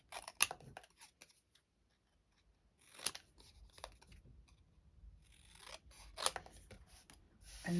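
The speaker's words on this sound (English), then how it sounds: "I'll get my snips and tidy that cardstock up." Snips trimming a piece of cardstock for a stamped floral card, giving several separate crisp snipping cuts with quiet gaps between them, close by and fairly soft.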